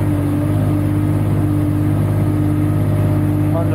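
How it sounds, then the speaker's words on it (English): Diesel engine of a Niftylift HR28 boom lift idling steadily up close, a constant droning hum with a low, even rumble and no change in pace. "The diesel engine is running now"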